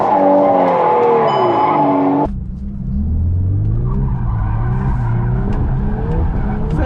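A Volkswagen Golf R drifts with a loud, wavering tire squeal and revving engine for about two seconds, then the squeal cuts off and the engine drones and rises again at lower pitch while faint talk sits underneath.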